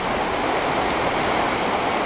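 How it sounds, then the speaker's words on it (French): A small waterfall in Iceland rushes in a steady, even roar, close by and unbroken. "Petite cascade."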